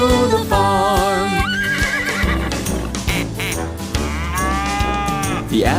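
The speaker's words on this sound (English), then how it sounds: "The animals on the farm say moo, quack, neigh" A children's nursery-rhyme animal sequence over bouncy music: a cow's low moo, a duck's quack and a horse's whinnying neigh follow one another, loud and up front in the mix.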